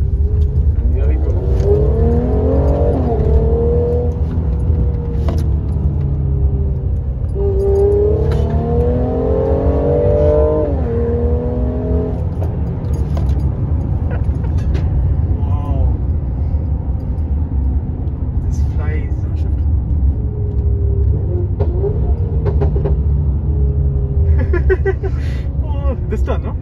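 A Stage 2 tuned Mercedes-Benz GLC43 AMG accelerates at half throttle, its engine note rising in repeated sweeping pulls through gear changes, loud and close from the cabin, with a person speaking over parts of it.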